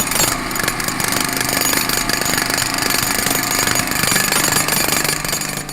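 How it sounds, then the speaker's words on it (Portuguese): A jackhammer-style rotary hammer drill pounds continuously at close range, a loud, rapid, rattling hammering that holds steady for several seconds with no talking. "Sabe aquele martelete perfurador que a gente ouve pelas ruas por aí?"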